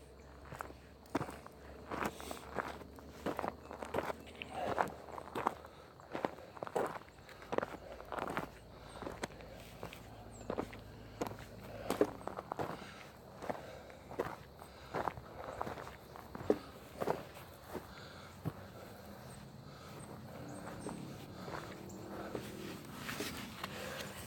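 Footsteps crunch along outdoors at a steady walking pace, fairly faint and close, with a few irregular scuffs and pauses along the way.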